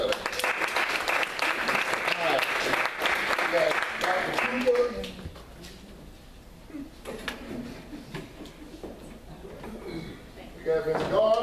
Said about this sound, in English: y'all gonna give him a round of applause or what?